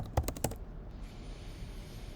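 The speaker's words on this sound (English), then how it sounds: "I'm going to go type in red curtain" A quick burst of about five crisp keystrokes on a computer keyboard, close and distinct, then near silence with faint background noise.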